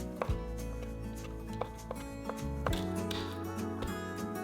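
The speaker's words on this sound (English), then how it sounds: "Then, finely chop the mushrooms as well." A knife finely chopping soaked mushrooms on a cutting board, with a handful of sharp, unevenly spaced taps, close but fairly soft beneath background music.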